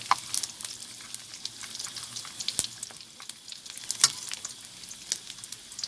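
Pork belly fries skin-side down in hot oil, a steady close crackle with sharp pops and spits scattered throughout and no voices.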